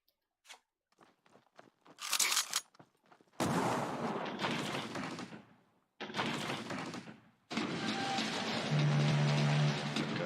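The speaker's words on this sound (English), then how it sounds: "That gun sounds very strange." A gun firing in the card game KARDS, sharp crunching bursts and rattling cracks coming in clustered volleys separated by short gaps, loud and close, with a brief tonal beep near the end.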